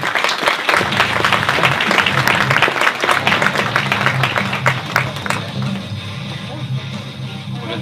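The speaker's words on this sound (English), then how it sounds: "A big round of applause to Ulrika" An audience at a breakfast seminar on digital transformation gives a loud, sustained round of applause that fills the room, with a few voices and music faintly underneath.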